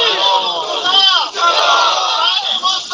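A crowd at an outdoor religious gathering in Okara roars a slogan back in unison, loud and close, with drawn-out voices rising and falling over about three seconds.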